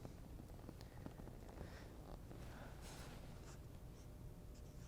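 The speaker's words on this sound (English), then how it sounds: "I'm going to start writing the numbers, but I will not finish writing the numbers." Pen or marker writing numbers on a board during a lecture on managing debt and repaying student loans, steady scratchy strokes continuing over a faint hum for several seconds, no talking.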